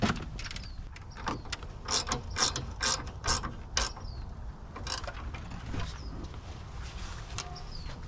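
Bolts on an M&R light bar mount being tightened on a 2021-2024 GMC Yukon, with a series of rapid ratchet clicks in short bursts, close and fairly loud, over outdoor background noise and occasional birds.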